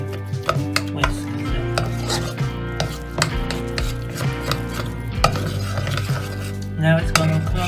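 A whisk beats macaroni and cheese sauce in a metal pot, producing rapid, loud, rhythmic clinks and scrapes against the sides over a steady background hum.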